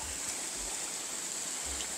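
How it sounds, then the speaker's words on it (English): A small stream flows steadily near Snoqualmie Falls, a continuous close rushing and burbling of water with no other sounds. "We're hearing water. Okay, a little river."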